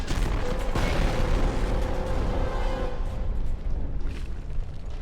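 Grenades, mines and other explosives go off in a F.E.A.R. shooter firefight, making a dense, loud barrage of booms that rumble together and then trail off into a fading roar, with no voices.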